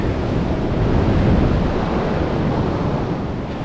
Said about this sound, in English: Check out this beach.